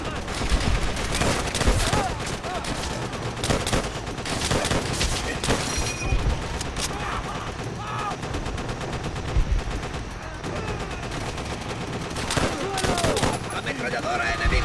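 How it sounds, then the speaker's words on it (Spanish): Enemy machine-gun fire in the World War II shooter Call of Duty: World at War comes as loud, dense automatic bursts and overlapping gunshots that run nearly nonstop, with soldiers shouting over the battle. "¡Ametralladora enemiga!"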